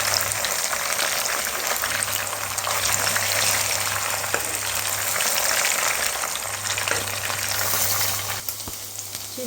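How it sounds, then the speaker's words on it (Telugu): Chicken pieces fry in hot oil in a pan for chicken noodles, giving a steady loud sizzle with occasional turning clatter, close up and continuous, with no talk. "ఇప్పుడు ఒకటి తిప్పుకోండి, వేయించుకోండి, అటు ఇటు తిప్పుకొని."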